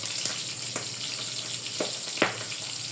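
Thin, fatty slices of pork fry in a pan with a constant close hiss of sizzling oil, broken by a few sharp pops and crackles.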